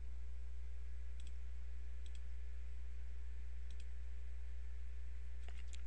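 A computer mouse clicks a few times over a steady electrical hum, with single and double clicks spaced apart and a quick cluster at the end, no speech.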